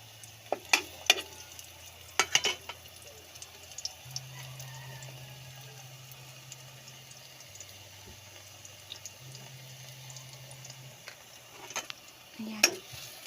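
Banana chips being stirred with sugar in a frying pan, scattered scraping and clinking of a utensil against the pan over a soft sizzle and low background hum.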